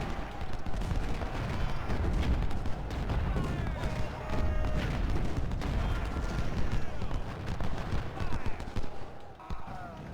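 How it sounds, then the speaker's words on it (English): Artillery guns fire in the Civil War strategy game Ultimate General Civil War at the Battle of Stones River, a dense, continuous barrage of booming shots and crackling volleys with no pause. "So now we'll have all our guns shoot at their gun."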